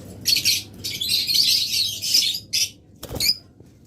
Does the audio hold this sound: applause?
no